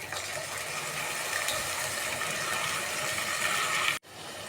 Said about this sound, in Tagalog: Lagyan natin ng konting tubig.